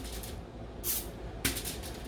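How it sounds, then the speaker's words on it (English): Olive oil sprayed onto a pan before broiling Serrano peppers and salsa verde ingredients: two short hissing spray bursts, close and fairly loud, over a quiet kitchen background. "I'm going to just spray it because I don't want them to stick"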